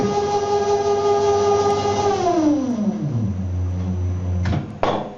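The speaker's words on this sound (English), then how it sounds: "you will hear the lock unlock." A steady mechanical hum from a church lift winds down in pitch, followed by two sharp clicks as the lift door lock releases.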